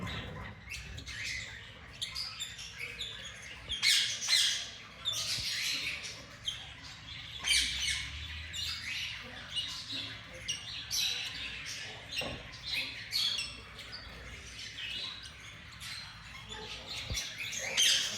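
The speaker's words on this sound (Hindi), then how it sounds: "उसके साथ आपको एक ब्रीडर पेयर चेक करवाते हैं रूबिनो रंप का" Red-rump rosella breeder pair of red-eyed birds squawking and chirping in a pet shop, with repeated sharp calls over a busy background of other birds and faint talk.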